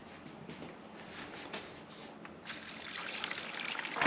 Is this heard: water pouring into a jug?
yes